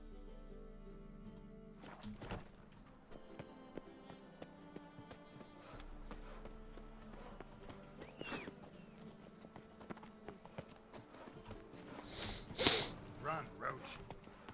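Horse hooves clip-clop at a run in The Witcher 3 video game, a steady moderate patter under someone talking, with a short whinny-like accent near the end.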